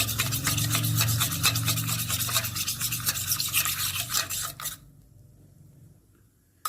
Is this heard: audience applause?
no